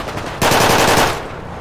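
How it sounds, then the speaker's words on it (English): A Glock pistol fires in a MindOnMurder roleplay game, one loud sharp burst of gunfire with a brief ringing tail, heard close and with no talking. "Yeah, it's a Glock."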